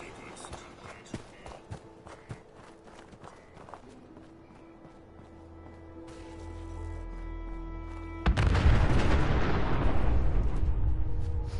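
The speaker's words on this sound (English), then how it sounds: "Lovely, lovely explosions." Self-destruct explosions in Fallout 4 erupt as a sudden loud, rumbling blast that holds heavy and sustained to the end, after a stretch of quieter clicks and a building low hum.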